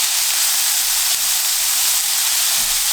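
Already-cooked ham warming in a pan with caramelized onions makes a steady, even sizzle and hiss that holds unbroken throughout.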